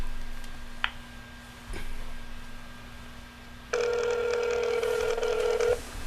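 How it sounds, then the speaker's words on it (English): A telephone rings during a call to a radio guest, with one long electronic ring burst following a few faint clicks against a quiet studio hum. "We're going to get Whuteva on the phone"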